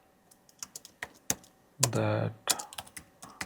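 Someone types code on a computer keyboard in quick, uneven bursts of close clicks and taps, with a short spoken remark partway through.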